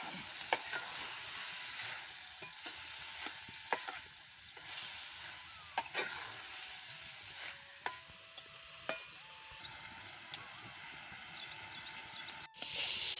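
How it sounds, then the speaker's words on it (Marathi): Tomato chutney being stirred in a pan, a soft continuous sizzle with scattered spoon taps and scrapes, fairly quiet, no voices. "आता झाकून ठेवते आता हलवून घ्या"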